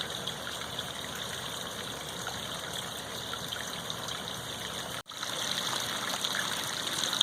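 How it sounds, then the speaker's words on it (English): Water from a backyard garden stream spilling over a rock, a continuous close rushing and trickling with a brief dropout near the end, no voices. "you see that rock there with the water coming off of it."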